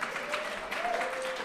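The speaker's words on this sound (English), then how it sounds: "Sure, you can applaud that." Short burst of applause from a panel discussion audience, moderately loud and continuous, with a faint voice running through it.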